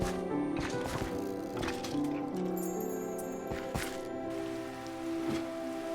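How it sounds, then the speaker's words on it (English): Steady rainfall in a video game patters throughout, layered over a droning, tonal music bed with occasional soft thuds. "Heading out in the rain."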